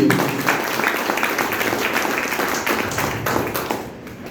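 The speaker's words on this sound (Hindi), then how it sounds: "तो उसके लिए एक बार जोरदार ताली चाहिए।" An audience at a health awareness program in a hall bursts into loud, dense applause, many hands clapping together close by before it fades slightly at the end.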